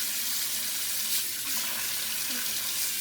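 Steady running tap filling a sink with water and dish soap, a continuous close hiss and splash that stays loud and even throughout, with no talking.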